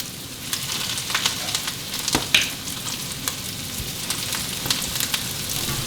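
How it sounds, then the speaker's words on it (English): Triggerfish fillets sizzle in a hot frying pan, a steady dense crackle with scattered sharper pops, continuous and close. "You're gonna want that sizzle when you put them in."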